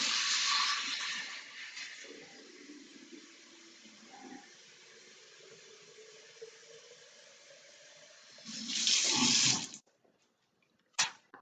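Cold tap water poured into a pitcher for lemonade, a steady rushing splash that runs for several seconds, shifts pitch as the pitcher fills, then surges briefly before stopping.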